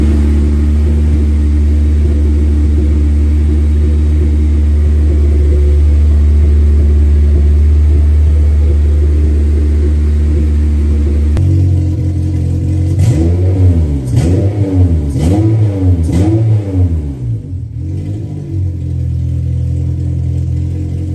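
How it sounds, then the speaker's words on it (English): A Honda DC5 car engine idles with a steady low rumble, then revs up and down several times in quick succession, loud and close. "let's end this video with this car running"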